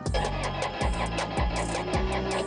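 A Bobcat MT100 diesel engine cranks in cold weather, the starter churning in an even, rapid rhythm of repeated strokes, close and steady with no talking.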